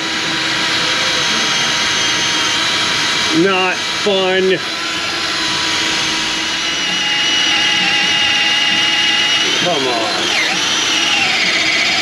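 A power drill grinds steadily through snapped exhaust bolts on a 2007 GMC Sierra 5.3, a continuous close whine running the whole time, while a man mutters briefly twice over it.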